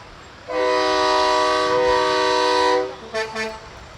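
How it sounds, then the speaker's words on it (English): Train-style whistle blown during a Fourth of July summer parade, one long sustained chordal blast of about two seconds, loud and close, followed by a few short fainter toots amid outdoor crowd ambience. "I hear that same whistle down on Route 32 at the state border every time a train goes by"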